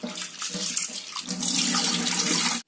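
Tap water runs into a vessel as roasted chana dal (split chickpeas) is washed for payasam, a continuous splashing rush that stops abruptly at the end.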